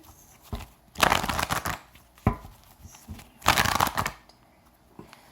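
Tarot cards are shuffled by hand at close range in two loud bursts of crisp riffling, with a softer tap between them and quiet gaps around them.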